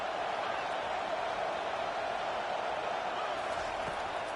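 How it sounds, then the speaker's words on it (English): Stadium crowd in an NCAA 25 college football game, a steady dense roar of cheering fans building on third down, heard alone at moderate distance with no distinct voices. "Decibels rising as the crowd gets behind this defense on 3rd down."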